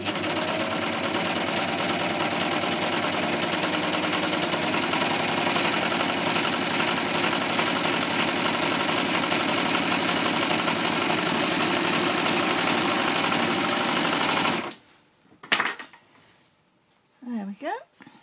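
A close overlocker runs without a pause for about fifteen seconds, sewing a rolled hem at stitch length 1.5 with the stitch finger disengaged, a loud rapid mechanical chatter, then stops, leaving a few short clicks and handling noises.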